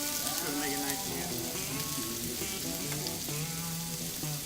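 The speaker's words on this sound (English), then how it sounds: "Let's get that garlic stirred off the bottom there. Mix it with the onions a little bit." Garlic and onions sizzle in a hot pan for Arkansas chili, a steady, dense crackle with occasional scraping stirs, loud and close with faint tonal background sounds underneath.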